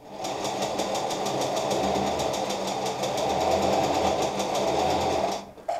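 Sewing machine running a straight seam through fabric, a steady fast mechanical chatter close by and loud for several seconds before stopping.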